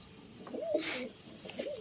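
Pigeons coo softly nearby, a couple of low rolling calls with a faint rustle between them, quiet and close.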